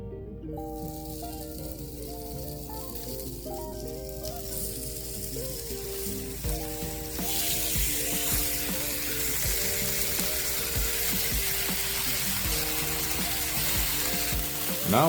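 Thin-sliced ribeye frying in oil in a pan, a steady close sizzle that grows louder and brighter about halfway through, with soft stirring and scraping over a background of music.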